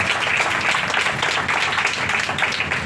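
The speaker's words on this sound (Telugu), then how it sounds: "దేవుడు నా మనకు సుతం గట్టిగా చప్పట్లు కొట్టి దేవుని మహిమపరచండి" A worship congregation claps loudly together, a dense, continuous wash of applause filling the room throughout.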